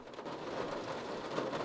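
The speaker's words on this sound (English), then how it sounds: "the only sound they could hear was the raindrops falling on the roof of the car." Rain patters on a car roof in a dense, steady drumming of drops that stays even and fairly soft throughout, with no voices.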